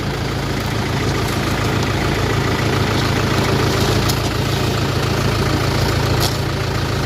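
A tractor engine idles at a field cabbage harvest, a loud, constant low rumble with a steady throb that holds unchanged for the whole stretch.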